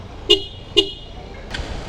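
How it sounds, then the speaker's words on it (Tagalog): A Honda PCX 160 motorcycle's aftermarket loud horn gives two short, sharp beeps in quick succession, fairly close, followed by a fainter third toot over low traffic rumble. "stock tapos yung loud horn"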